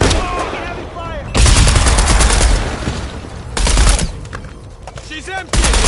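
Heavy gunfire in the video game Shadow of the Tomb Raider, loud sustained bursts of automatic fire broken by short lulls, with voices shouting between and under the shooting.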